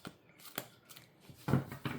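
Tarot cards from a Thoth deck shuffled by hand during a Celtic cross reading, giving a few short, close riffling bursts with a louder flurry near the end; no one talks.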